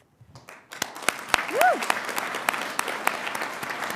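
Applause from a graduation audience honouring public interest and pro bono clinic students, dense steady clapping rising quickly and holding, with a whoop cutting through partway.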